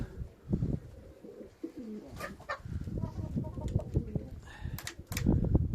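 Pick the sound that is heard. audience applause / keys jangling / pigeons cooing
pigeons cooing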